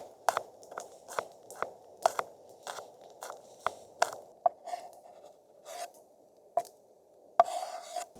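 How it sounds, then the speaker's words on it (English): Ginger is grated for a sauce outdoors in a forest, giving a series of short, crisp rasping strokes in an uneven rhythm, close and fairly quiet, with small scraping sounds between them. "I want to grate some ginger and add it to the sauce"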